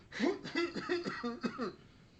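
A burst of harsh coughing, several rapid hacks in a row, close and fairly loud, trailing off at the end.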